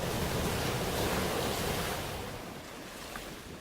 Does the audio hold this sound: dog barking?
no